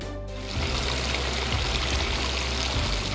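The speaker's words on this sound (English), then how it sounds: "Let the sound of the waterfall carry away the day's stresses." Steady rushing and splashing of a waterfall pouring into a heated pool and spa, fairly close and continuous with no voices.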